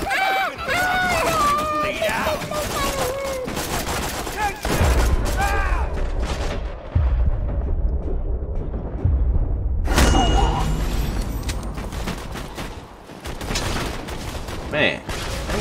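A gun fires in the co-op video game Borderlands 2, its repeated shots and booms mixed with game effects and nearly continuous talking over the top.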